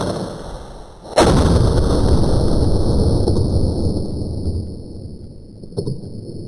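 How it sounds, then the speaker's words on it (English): A Howdah flintlock pistol fires its second barrel in one loud, close blast whose heavy rumble hangs and slowly fades, with a faint knock near the end. "Let's fire the other barrel."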